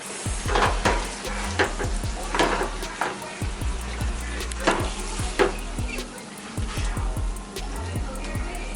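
Food sizzles steadily in a hot pan as sauce is stirred in, with repeated scraping and knocking strokes of a utensil against the pan, close and fairly loud.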